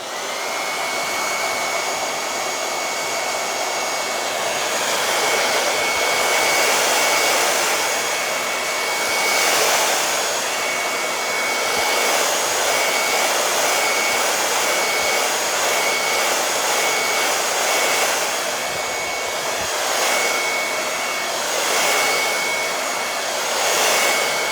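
A hair dryer runs steadily on a decoupage floral silver tray, a loud, close, continuous whooshing blow with a faint high whine, shifting slightly in tone as it moves, with no talking.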